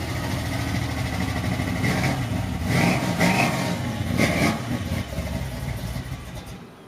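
C10 show truck V8 engine running close by, with a steady low rumble throughout and several rising revs around the middle before it settles back toward idle.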